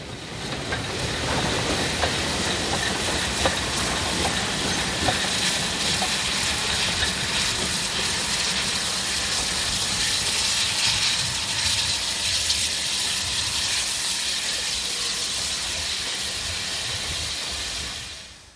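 A steam locomotive pulling a set of North Eastern and LNER teak carriages rolls past with a steady, loud rumble and hiss, a continuous wash of noise that holds level before fading out at the end.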